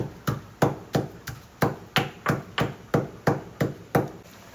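Thirteen sharp, even pounding strikes land in steady rhythm, a pestle thudding spices in a stone mortar close by, with no talking.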